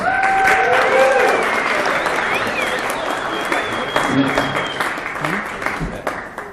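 Warm applause from wedding guests welcoming the father of the bride at a reception, steady dense clapping filling the room and slowly tapering, with faint voices mixed in.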